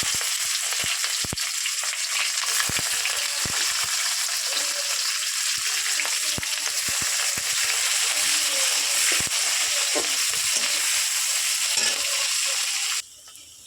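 Onions frying in oil with dried chilli and bay leaf, a loud continuous sizzle close by with frequent sharp crackles and pops, cutting off abruptly near the end.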